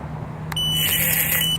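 A Q95 quadcopter drone with a loose buzzer pad rubbing against it suddenly bursts into a shrill, high buzzing whine that holds steady and close after a brief low hum.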